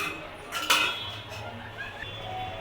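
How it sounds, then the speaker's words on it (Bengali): A metal lid is set down over a pot of doi chicken (yogurt chicken) on the stove, giving one bright clank over a low, steady kitchen background. "পাঁচ মিনিটের জন্য আমি ঢেকে দেব এবার আমি ঢেকে দিলাম"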